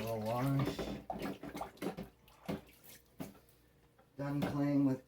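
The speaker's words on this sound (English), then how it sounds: "give my hands a little wash" Hands are rinsed under a running kitchen tap, giving soft splashing and trickling water between stretches of a person talking at the start and end.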